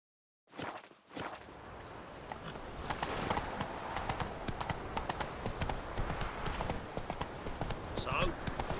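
Roach, a horse in The Witcher 3, gallops with a rapid, continuous clip-clop of hooves close up. The hoofbeats run steadily for several seconds with faint background voices.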